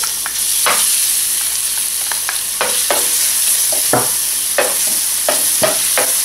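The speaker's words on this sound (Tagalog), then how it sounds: "Magpapainit lang tayo ng oil dito sa ating pan. So, ilagay na natin yung garlic." Garlic sizzles steadily in hot oil in a pan, a constant frying hiss broken by repeated clicks and scrapes of a utensil stirring it.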